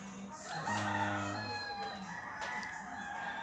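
A rooster crows loudly nearby in one long drawn-out call, with other farm fowl clucking faintly around it.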